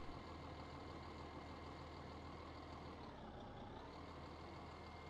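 A tractor engine runs steadily in the video game Weed Farmer Simulator, a continuous even drone with no talking over it.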